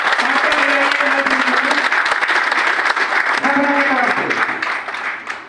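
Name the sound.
audience applause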